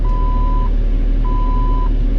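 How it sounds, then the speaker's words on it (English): A truck's emergency brake warning sounds as two steady electronic beeps, each lasting about two-thirds of a second, over a loud constant engine rumble inside the cab. "Don't mind the beep, that's the emergency brake."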